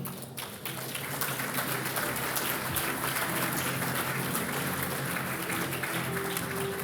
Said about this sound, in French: vous pouvez également l'applaudir